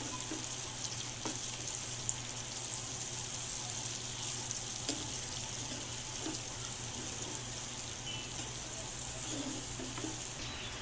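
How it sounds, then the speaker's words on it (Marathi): Cabbage and soaked chana dal sizzle steadily in a hot pan as they are stirred, a continuous close frying hiss with soft scraping of the spoon throughout. "आता हे सर्व जिन्नस भाजीमध्ये व्यवस्थित मिसळून घेऊया"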